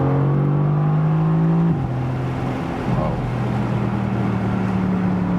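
Mercedes-AMG GT C Roadster, a 557 hp V8 convertible, pulls out of a corner with a low sonorous engine drone, the pitch steadily rising before a gear change drops it and it climbs again.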